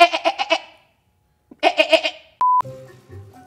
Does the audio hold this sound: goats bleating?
yes